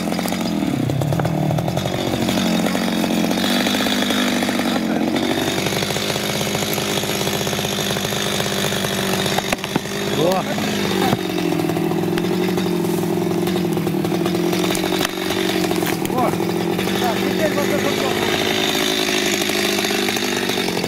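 A chainsaw cuts into trees, running loudly and continuously close by, its pitch rising and dipping as it bites into wood, with no pauses.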